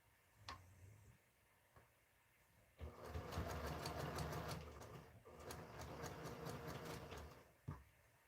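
A sewing machine runs over fabric scraps for a scrap quilt, a steady, fairly quiet whirring with rhythmic ticks that lasts several seconds after a few isolated clicks.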